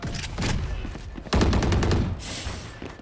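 Video game gunfire aimed at a wall: a few separate shots early, then a loud sustained volley of rapid rounds, with a hiss of debris near the end.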